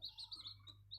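Newly hatched chicks peep in soft, high chirps, faint and continuous, before their mother hen gives a brief low cluck at the end.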